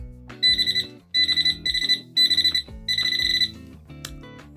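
A Nokta metal detector pinpointer sounds five short bursts of quick, shrill beeps close by, each burst breaking off briefly before the next, over faint background tones.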